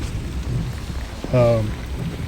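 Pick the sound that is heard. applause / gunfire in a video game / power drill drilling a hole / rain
rain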